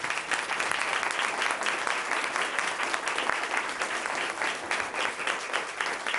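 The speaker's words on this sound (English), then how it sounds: "At this time, I'd like you to give these candidates a nice round of applause." At a 2019 selectmen candidates forum, the audience gives the candidates a dense, even round of applause that carries on for several seconds with no speech over it.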